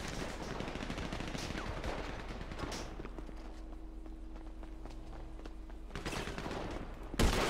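GTA Online gunfight with sniper rifle use: a dense stretch of rapid gunfire and footsteps, a quieter pause with a steady hum, then more shooting and a sharp loud shot at the end.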